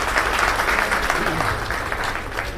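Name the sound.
audience applause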